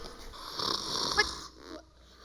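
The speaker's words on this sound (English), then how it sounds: "Oh, he's snoring." A snoring sound, a raspy broad rush swelling for about a second and a half, then fading into quieter breathing.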